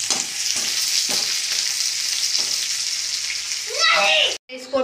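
Chopped onion fries in a pan with a continuous loud hiss, broken by a few regular scraping strokes as it is stirred, before an abrupt cutoff near the end.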